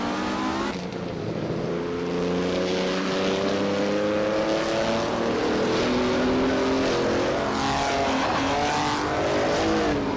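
A 1951 Alfa Romeo 159 and other racing cars in a video game, loud sustained engine whine with layered rising and falling tones as cars pass close, continuous throughout.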